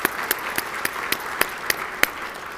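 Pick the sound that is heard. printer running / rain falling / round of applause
round of applause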